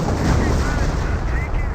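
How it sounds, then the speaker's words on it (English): Artillery fire in Company of Heroes during a Panzer Elite versus British match, a loud continuous barrage of heavy booms and rumbling impacts. "They're getting ripped apart by the artillery."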